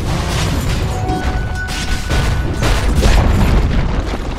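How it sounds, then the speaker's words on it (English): A Dota 2 tower collapsing brings a loud, booming crash that rumbles low and heavy, building to a peak and then tapering off, with no voices over it. "Dire's top tower has fallen."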